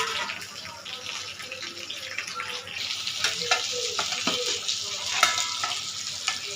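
Crab cooking in a covered pan, a continuous bubbling sizzle with scattered sharp pops and crackles, moderately close and steady throughout.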